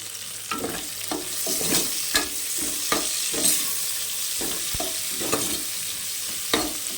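Green chillies frying in oil for mutton pulao, a close, continuous sizzle broken by repeated clacks and scrapes of a spoon stirring in the pan.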